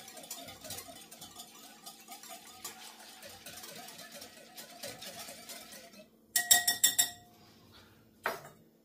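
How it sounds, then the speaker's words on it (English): A spoon stirring fast-acting yeast into warmed liquid, light repeated clinks and scrapes against the bowl, faint and close, followed by a louder burst of clattering near the end. "We add our yeast. I'm using a fast acting yeast. Give that a stir just to start the combination."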